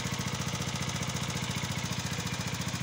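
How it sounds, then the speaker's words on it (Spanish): A Keeway Superlight 125 motorcycle engine idles steadily nearby, its low, even putter pulsing in a regular rhythm with no other sounds. "La moto arranca perfectamente a la primera."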